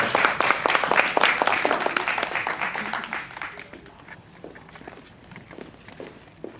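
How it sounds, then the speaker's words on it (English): An audience at an evening conversation event applauds, dense clapping that starts strong and gradually thins out and fades over several seconds, with a voice briefly audible underneath. "And one more round of applause for her."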